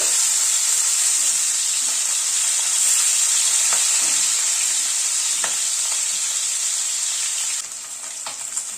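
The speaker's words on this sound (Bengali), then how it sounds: "মাছগুলোকে উল্টে পাল্টে লাল করে ভেজে" Rohu fish pieces fry in hot oil in a karahi and are turned over, giving a loud, continuous close sizzle with occasional faint clicks from the turning, which eases slightly near the end. No talking.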